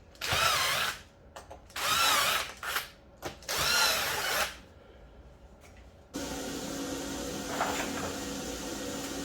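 Power drill driving 1 5/8 inch screws into three layered boards, with four whining bursts that rise as each screw bites, followed by a steadier, lower mechanical hum, close and clear with no talking.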